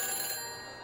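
A telephone rings in the Back to the Future video game, a brief sustained metallic bell trill that holds steady and then fades slightly.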